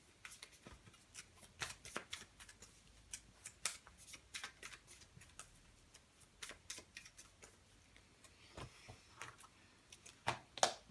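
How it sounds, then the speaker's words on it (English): A deck of Vanguard trading cards is shuffled during a card game, making soft, rapid, irregular flicks and snaps for about ten seconds, with a sharper riffle near the end. "And then I've got to shuffle."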